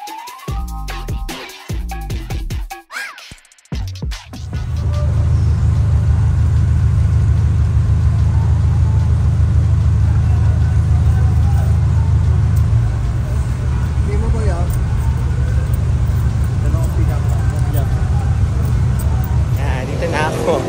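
From inside a UV Express van in busy traffic, a steady mid-pitched engine hum and road rumble run continuously. Brief louder handling noises come first, and speech is present in the clip.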